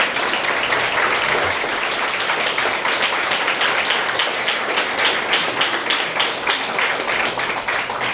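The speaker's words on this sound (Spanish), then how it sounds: "Le damos un fuerte aplauso al Señor." Congregation in a church breaking into loud, sustained applause, a dense continuous patter of many hands clapping throughout with no voices standing out.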